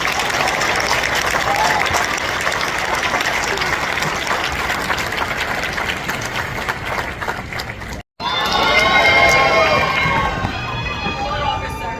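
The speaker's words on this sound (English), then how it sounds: "Round of applause." Applause from a large crowd at a New York State court officer graduation ceremony, a steady, dense roar of clapping that cuts off abruptly, then returns alongside chatter and other noise.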